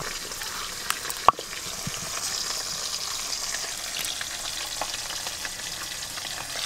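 Cauliflower frying in a pan for a Bengali roast crackles in an even, continuous sizzle at moderate volume, with a sharp clack early on and faint stirring clinks, and no voices heard.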